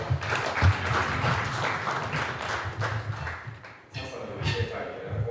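An audience at a formal launch ceremony in Tanzania claps continuously as participants return to their seats, a dense patter with a brief dip before picking up again, with speech heard over it.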